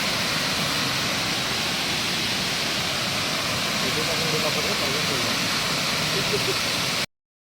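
A steady, loud broadband roar of rushing water from the Pulusu Mamidi waterfall in a forest near Araku, heard nearby, with faint voices underneath, cutting off abruptly at the end.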